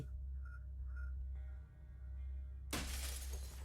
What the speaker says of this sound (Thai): อ่า เสียงกระจกแตก